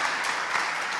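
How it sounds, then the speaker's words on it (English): Audience applause at a Summit Pro Stage conference session, a steady wash of clapping hands from a crowd, moderately loud and continuous for a moment. "Big applause, please."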